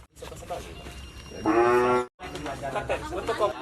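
Cattle in village pens during a vaccination visit, one low drawn-out moo rising clearly over steady background talk and farmyard murmur, with voices continuing after it.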